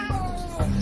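Abandoned cat meowing, a short drawn-out wailing meow with a falling pitch followed by a brief second cry, close and clear, with faint voices in the background.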